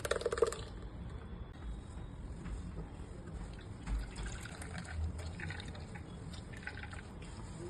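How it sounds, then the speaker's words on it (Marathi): Kokum and coconut milk trickling and dripping steadily through cotton cloth, a soft continuous wet patter with small splashes, fairly quiet and close. "त्याच्यावर एक कपडा टाकलेला आहे सुती आणि त्याच्यातून आता मी हे गाळून घेत आहे"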